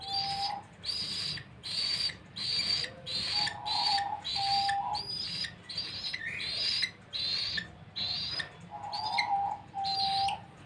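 A parrot chick being hand-fed gives rhythmic, repeated shrill begging chirps in steady bursts about once a second, close and clear with no talking.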